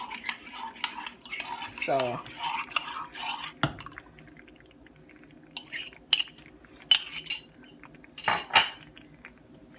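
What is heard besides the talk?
stirring cornmeal porridge with coconut milk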